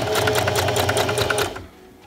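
A sewing machine runs steadily, stitching a newborn-size baby sleeper, with a fast even stitch rhythm close by that stops abruptly near the end, leaving quiet.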